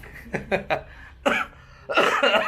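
A few quick coughs in a row, then a longer burst of coughing or chuckling, close and fairly loud.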